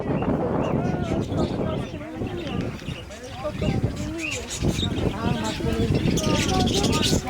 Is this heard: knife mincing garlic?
no